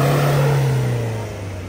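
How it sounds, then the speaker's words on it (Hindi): Car engine revving hard while stuck on a slippery mountain road near Pahalgam, a loud steady drone that sags slightly in pitch, close and alone with no talk. "रेस ज्यादा मत करो"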